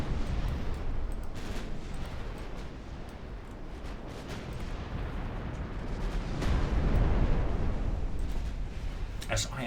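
Naval gunfire from 12.5-inch guns against 9-inch battleships in the Ultimate Admiral Dreadnoughts warship game: a continuous rumbling barrage of heavy booms with a louder swell near the end, with someone talking over it.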